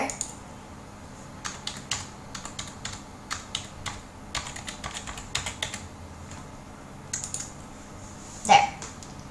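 Keys clack on a computer keyboard as a new password is entered, quick uneven clusters of close taps with short gaps, ending in a slightly louder thump.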